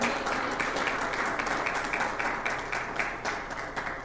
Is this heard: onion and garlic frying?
no